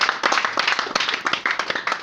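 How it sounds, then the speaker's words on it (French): A church congregation claps together in quick, steady rhythm, a dense near burst of applause with no voices over it. "Est-ce que tu peux acclamer le Seigneur?"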